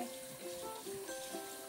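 Water streams from a tap into a sink during handwashing, a soft, continuous splashing trickle heard fairly faintly and close by.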